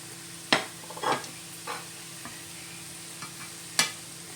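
Thai dough snacks with salty or bean filling frying in hot oil, a low steady sizzle broken by a handful of sharp clicks and spatters spaced irregularly, heard close with no talking.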